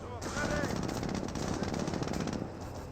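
Rapid machine-gun fire rattling continuously in a Company of Heroes World War II battle, Panzer Grenadiers under fire, dense and sustained for about three seconds with a voice over it.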